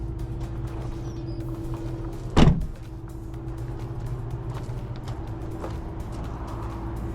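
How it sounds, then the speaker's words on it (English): Door of a 2021 Land Rover Defender shutting once with a single solid thud partway through, over steady low background hum, no talking. "we can close the door."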